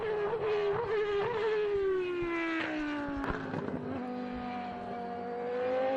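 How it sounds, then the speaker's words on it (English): A formula race car passes the commentary booth at Virginia International Raceway (VIR) with a humming, high engine whine that sweeps downward in pitch as it goes by. The whine fades slightly before swelling again, and there is no talking. "listen to that thing hum. Listen to it come by the booth right now."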